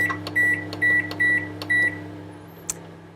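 A microwave oven beeps four times in quick, even succession, followed by a faint click and a brief higher chirp over a low electrical hum.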